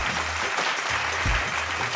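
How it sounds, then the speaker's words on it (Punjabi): A studio audience at a televised children's singing competition claps steadily and loudly through the whole moment, a dense, continuous wash of applause with no voices over it. "ਇੱਕ ਜ਼ੋਰਦਾਰ ਤਾੜੀਆਂ"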